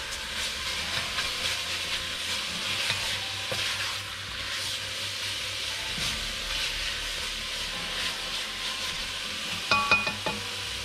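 Bacon being stirred as it fries in a pot, a continuous bright sizzle with scraping stir sounds and a few sharp clinks near the end, no talk.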